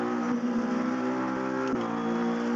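Steady, loud car engine from a sim racing game during a lap, a sustained droning note with slight pitch shifts, heard alone without voices.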